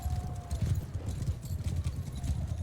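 Horse hooves clip-clop in a steady, repeating rhythm in the video game Mount & Blade II Bannerlord, fairly quiet and close, with faint background game ambience.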